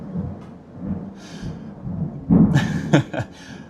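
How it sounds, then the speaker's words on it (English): Thunder rumbles outside a house after a lightning strike, low rolling booms with a louder crackling burst toward the end, heard from indoors without talk. "Lightning just struck outside my house. Don't use that to dox me. Do you hear the thunder?"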